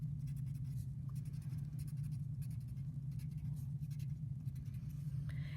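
A green marker colours in doodle notes on paper with faint, soft scratchy strokes, quiet under a steady low hum.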